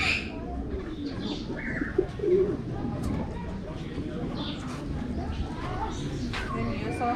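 Male pigeons coo in a garden aviary, low soft calls sitting under a steady bed of ambient noise and other birds chirping, with a faint voice in the background.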